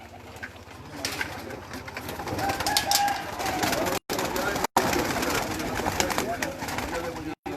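Pigeons coo and call close by as they are released from their loft, a steady chorus of bird sounds with people talking over it.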